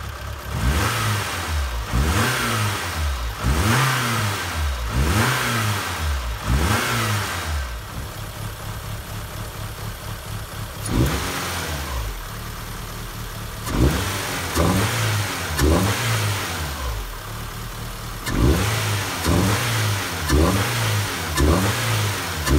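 A Toyota AE86 engine fitted with a K&N cold air intake revs repeatedly, each throttle blip rising and falling in steady bursts with short idle pauses between, loud and close.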